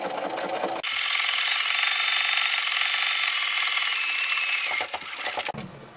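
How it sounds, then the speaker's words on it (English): A sewing machine edge stitching the straps of a small fabric doll backpack, running steadily for about four seconds with a high mechanical whir, starting and stopping with short bursts, close up with no talking. "And edge stitching is just staying close to the edge and sewing it."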